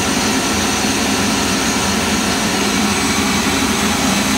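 Citizen A20 CNC lathe with four tools spinning at 4,500 RPM and a rotary guide bushing under coolant, making a loud dense unbroken roar and hiss at steady level, close and without talk.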